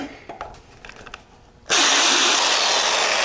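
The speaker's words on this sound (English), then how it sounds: "I've installed my countersinking bit, and all I want to do is just barely tap that hole." A countersinking bit cuts a slight chamfer in a hole on a drag-race Powerglide transmission part. After a quiet stretch with faint handling knocks, a loud power-tool whir suddenly starts and holds steady.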